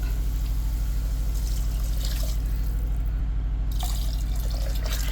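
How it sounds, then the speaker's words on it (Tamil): Water poured into a cooking pot while making Ramadan mutton nonbu kanji, a steady trickling splash over a low constant hum, moderately loud and continuous with a brief dip midway. "இதே டம்ளரால் ஆறு டம்ளர் தண்ணி ஊற்றிக்கங்க"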